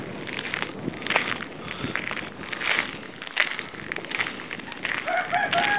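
A rooster crows outdoors in the Van Horn Mountains, the call somewhat distant and mixed with background noise and faint rustling.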